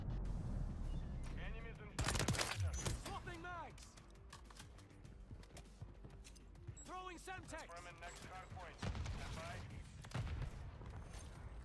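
Call of Duty: Modern Warfare 3 multiplayer match with a loud grenade blast near the start, then scattered bursts of gunfire and further booms, heard under steady background game audio with voices talking over it.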